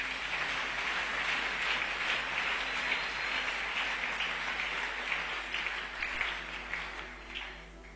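Congregation applauding in a church service, a steady wash of many hands clapping at moderate distance, sustained throughout and easing off slightly at the end, with no speech over it.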